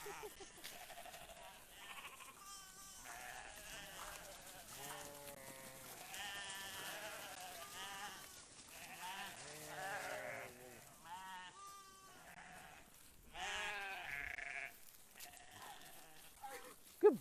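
Goats bleat repeatedly in wavering, nasal cries, several calls overlapping at moderate distance with quiet gaps between them.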